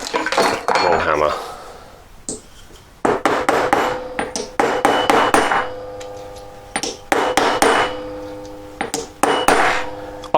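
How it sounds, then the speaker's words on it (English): A long hammer strikes a metal jewellery piece being domed for a cluster ring, giving sharp ringing metallic taps in irregular clusters with short pauses, close and loud. "Long hammer."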